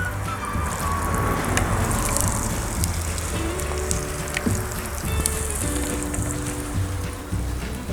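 Fenugreek seeds and asafoetida crackle and sizzle in hot oil for a dry okra-potato curry, a steady close frying hiss with scattered sharp pops throughout and no talking.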